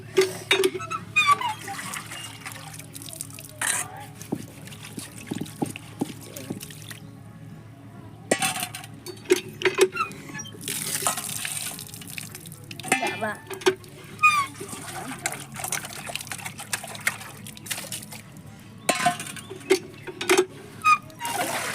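Water from an electric pump splashes and pours during bathing, intermittent splashes and trickles near the listener, broken by pauses and some talk.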